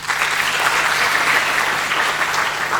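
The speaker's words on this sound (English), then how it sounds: "Could you please warmly applaud them?" An audience at a graduates forum panel applauds the panel speakers as they are introduced: continuous, full-room clapping, steady and fairly loud throughout with no voices on top.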